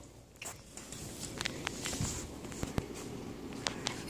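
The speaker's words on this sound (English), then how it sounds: "It's raining for a second time now." Rain falling outdoors, a broad steady patter with scattered sharper drips and taps over a low background rumble, fairly faint and continuous throughout.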